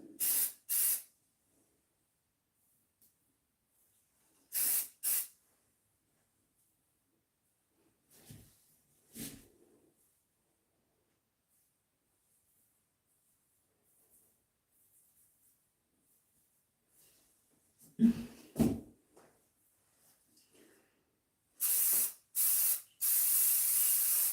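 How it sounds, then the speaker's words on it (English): Hairspray released from an aerosol can in short bursts, a bright sharp hiss repeated several times with quiet gaps, close by, ending in a longer run of spraying. "This is the only time I ever use hairspray when I'm doing videos."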